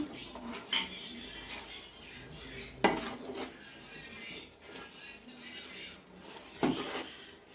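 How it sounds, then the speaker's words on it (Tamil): Chicken pieces being stirred and turned in a pot while cooking Hyderabad chicken biryani: scattered spoon-on-metal clanks and scraping knocks at irregular moments over a low, steady kitchen background, no talking. "அப்படியே சிக்கனையும் நம்ம அப்படியே பெரட்டி விட்டுக்கிடுவோம்"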